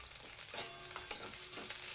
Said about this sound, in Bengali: তো দেখো পেঁয়াজ আমি ভাজা বসিয়ে দিলাম